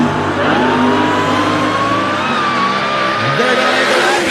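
Funny car roars down a drag strip at Great Lakes Dragaway, a loud sustained engine howl with the pitch climbing steadily as it accelerates through the run, a faint voice underneath.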